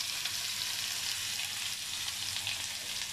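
Chili powder and gravy fry in a pan for an aloo matar paneer curry, a steady, close, broadband sizzle that holds evenly throughout with no talking.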